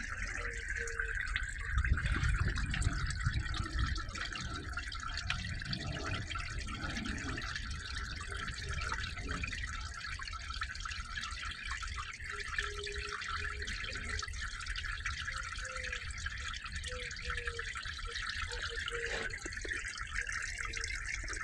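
Black oil drains from the pan of a 1997 Chevrolet S10 4.3 L truck into a tray, a continuous liquid trickling and dripping under a low background rumble, with someone speaking Spanish intermittently.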